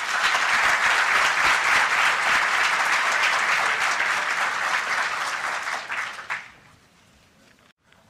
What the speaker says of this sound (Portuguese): Agradecemos a presença dos integrantes da mesa com as nossas palmas.